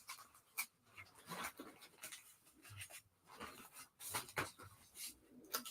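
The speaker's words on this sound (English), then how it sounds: "Oh, little puppy." A little puppy pants close by, with quick, soft, uneven breathy puffs at a low level and a few faint rustles, and no talk.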